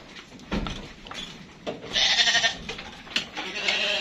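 Young crossbred Dorper rams in a farm pen let out a couple of short, nearby bleats amid shuffling and background noise.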